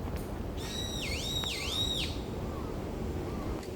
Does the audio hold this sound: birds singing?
yes